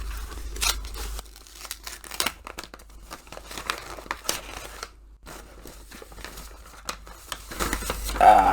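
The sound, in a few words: tearing open book subscription box packaging by hand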